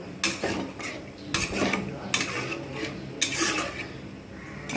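Spice masala being stirred into potatoes in a pan for kachkolar kofta curry, heard as a spoon scraping and knocking against the pan in irregular bursts over a soft background sizzle.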